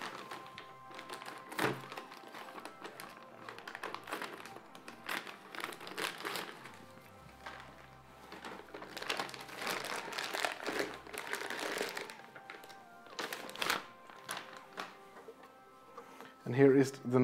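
Plastic packaging being cut with scissors and unwrapped from a Terramaster F2-220 NAS, close crinkling and crumpling with scattered taps and thunks, running under occasional talk.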